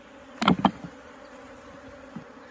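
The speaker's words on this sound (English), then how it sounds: "here's couple bees there got scared of me and are trying to retrieve some of their honey" Honey bees on a beehive frame give a couple of sharp, close buzzing bursts near the start, then settle back into a faint background hum.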